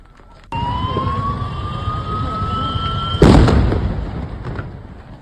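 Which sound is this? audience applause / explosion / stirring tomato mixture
explosion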